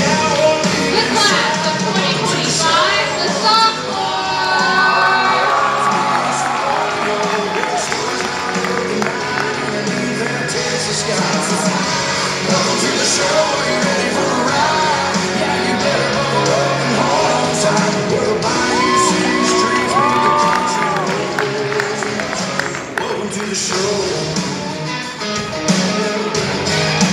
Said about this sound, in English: show them how loud the hometown crowd can get close tonight, y'all